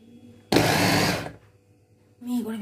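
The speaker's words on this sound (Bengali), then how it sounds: "এই যে একটি চপার, বড় হেল্পিং হ্যান্ড" An electric kitchen chopper chops onion in one loud, buzzing burst of under a second. It falls quiet, and a voice speaks briefly at the end.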